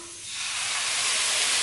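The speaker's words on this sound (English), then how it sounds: "We want to create a little bit of steam." Water hitting a hot pan of rainbow carrot and cauliflower rice sends up a loud, close, rising hiss of steam that swells and holds steady without any voices.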